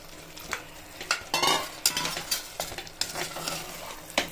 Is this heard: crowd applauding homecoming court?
no